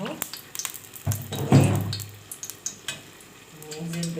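Onions sizzling as they go into hot oil in a baking tray for a pasta dish, a burst of frying with stirring clatter, close and fairly loud, no talk.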